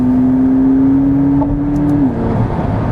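Car driving along with a steady, close engine hum and road rumble, a sustained tone holding then dropping slightly near the end, with no talk.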